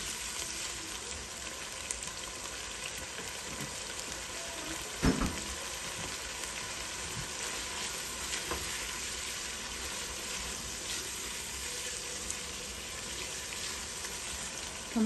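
Meat and tomato masala with salt sizzles steadily in a pan, a continuous frying hiss with occasional scraping knocks from stirring, close and unaccompanied by talk.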